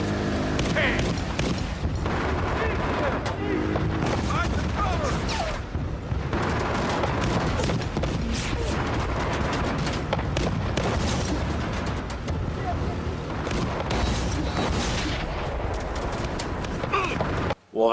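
Tank cannon fire and explosions in the video game Battlefield: Bad Company, a long run of heavy booms and blasts amid dense battle noise, loud and close with little letup.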